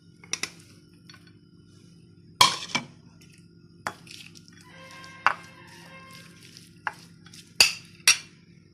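Raw chicken pieces are stirred together with salt and onion, giving scattered spoon clinks and light scrapes against the dish, close and sparse with quiet gaps between.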